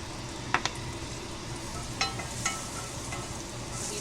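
Garlic from one big clove sizzling in oil in a pan for a Lion's Mane mushroom Philly sandwich, a steady close fry hiss with a few sharp utensil clicks and stirring taps.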